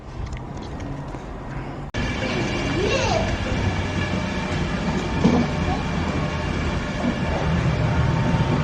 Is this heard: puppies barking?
no